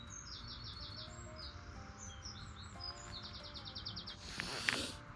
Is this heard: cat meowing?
no